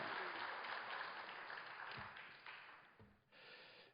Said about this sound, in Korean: 다 같이 우리 격려의 박수